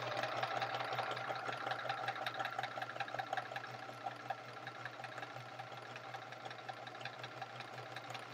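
A sewing machine runs steadily while chain piecing half-square-triangle quilt squares for a chevron quilt, a quiet, continuous mechanical hum with a fast rhythmic stitching patter throughout; no talking.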